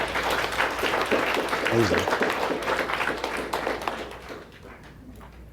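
Applause rises from an audience during a real estate agents' talk, a dense patter of clapping heard beneath steady speech that slowly fades near the end.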